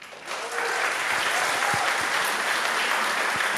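Community audience at a cultural festival applauding for photography exhibitors, clapping swelling in after a brief start and holding steady, loud and close, with no talk over it.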